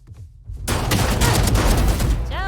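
Sustained rapid gunfire from an overheating weapon in the Valorant shooter game starts after a quiet opening and pours out loud and dense, shot after shot, with a brief electronic chirp near the end.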